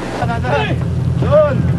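Strong wind buffets the microphone with a low rumble while rough waves churn around a boat on Albay Gulf, off the Pacific Ocean; raised voices cut through briefly.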